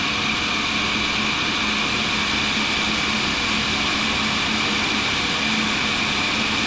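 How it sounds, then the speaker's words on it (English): Shop vacuum running steadily in a workshop while scrapers are resharpened on a radial drill press, a constant close broadband roar with a low hum, no talk. "I'm going to turn the vacuum on here."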